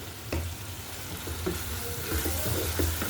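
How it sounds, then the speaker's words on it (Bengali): Spice paste for a bitter gourd and prawn curry frying in a pan while being stirred: steady close sizzle with a few scraping stir strokes, no talking. "মশলাটা সুন্দর করে নেড়েচেড়ে এখন কষিয়ে ভালোভাবে"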